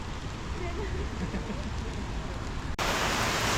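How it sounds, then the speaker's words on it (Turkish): Heavy tropical rain on Koh Tao island, Thailand, pours down in a steady, dense hiss, with the sound shifting abruptly to a brighter, harsher wash near the end. "tam video çekim derken bir yağmur patladı"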